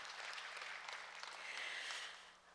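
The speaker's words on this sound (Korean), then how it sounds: "네, 박수 보내주시기 바랍니다." An audience at a humanities forum opening ceremony claps in a steady crackling round of applause, faint and distant in a large hall, tapering off at the end.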